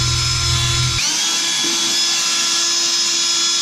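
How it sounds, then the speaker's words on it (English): A small power drill polishing a car headlight with a 3M restoration product whines steadily at a high pitch, with a low rumble dropping out after the first second while the tool keeps running. "you gotta kind of position the little drill in the correct manner"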